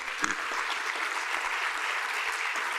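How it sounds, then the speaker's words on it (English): An audience at an MLK Day celebration applauding a speaker, a dense, even wash of many hands clapping that holds steady for a few seconds at moderate loudness. "Let's give another round of applause for Hill."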